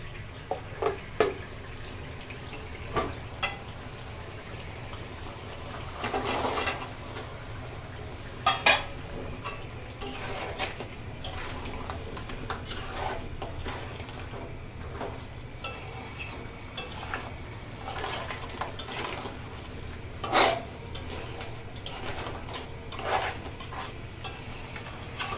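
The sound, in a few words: sea crabs added to fried spice paste and stirred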